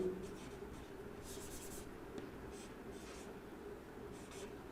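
Pen or marker writing on a board during an electrical engineering lecture on the per-unit system, faint scratchy strokes in short bursts over a low steady hum.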